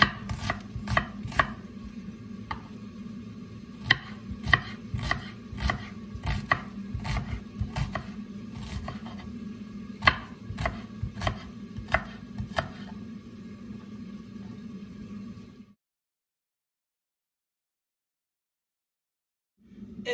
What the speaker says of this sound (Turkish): Şimdi de yemeğimin soğanını doğruyorum.